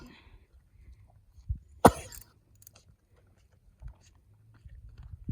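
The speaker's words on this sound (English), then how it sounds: "She coughs a few times like this, and then she seems to clear it" A single sharp, harsh cough close by in a quiet setting, with faint rustling and low background noise around it.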